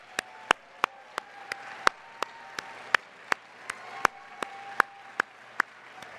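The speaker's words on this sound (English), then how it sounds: "My next line was supposed to be to call for a round of applause, but I love it when it's organic." Spontaneous audience applause at a PPA award and degree ceremony, heard as a sparse run of distinct single claps spaced through a soft crowd murmur rather than a dense ovation, moderately distant, with no talking.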